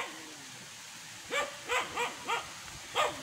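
A dog barks five times in a steady rhythm, close by, the sharp yelps standing out against a quiet background with no talking.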